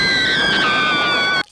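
Several people in a low-budget horror film scream together on discovering a dead body, a sustained shrill, high-pitched cry that stays loud and close before cutting off abruptly.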